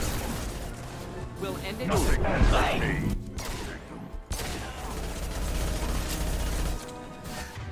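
A hand pistol fires in a video game, Mass Effect 2 Legendary Edition, with dense bursts of shots, impacts and crashes mixed with game effects and music, while a player talks over the action.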